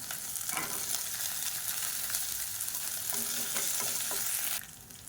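Finely chopped ginger and several garlic cloves frying in a pan, giving a steady, close sizzle with light stirring scrapes throughout and no talking.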